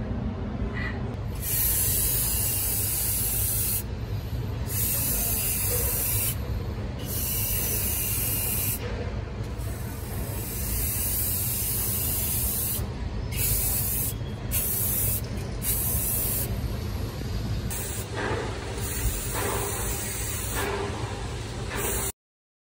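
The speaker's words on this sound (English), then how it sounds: "Spray painting, sorry." A can of spray paint hisses in long continuous bursts separated by short pauses while crafting a pull-out hanger, loud and close with no talking.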